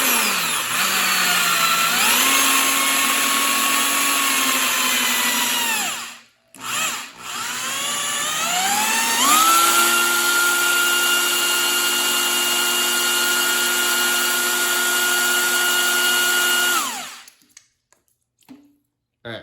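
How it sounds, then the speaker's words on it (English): A power drill runs counterclockwise to prime the oil system of a Ford 302 tunnel port engine, whirring steadily and loudly for several seconds, stopping briefly, then spinning up again for a long sustained run before cutting off. "we're going to make sure our drill is in counterclockwise"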